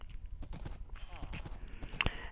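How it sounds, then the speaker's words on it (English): Hooves of a horse wearing diamond armor clip-clop in Minecraft, a few quiet irregular thuds with soft clicks in a short quiet stretch, faint voice traces in between. "now you can ride it around on a diamond horse"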